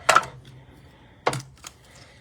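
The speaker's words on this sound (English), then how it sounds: "I'm just going back and forth cutting them. With my mini cut and emboss." A mini cut and emboss machine feeds paper through with dies for card making, giving two short mechanical crunching bursts with a fainter click after, close by and with no talk.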